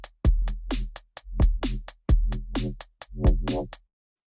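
A Serum synthesizer patch programmed in Ableton plays a series of short, punchy bright notes in a rhythmic repeating pattern, each with a sweeping filtered tail, then stops.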